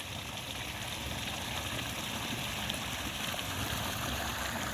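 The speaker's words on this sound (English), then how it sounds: "The water is about 6 inches over the board that's in there." Floodwater running about six inches over a board in a channel beside an orchard during heavy rain, a steady, full rushing flow with no breaks and no voices.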